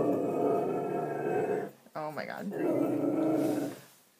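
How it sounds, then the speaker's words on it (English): A dog growls and grumbles loudly and close by, a sustained rumbling snarl that breaks off briefly in the middle, while a person exclaims over it. "Sorry, that's my dog."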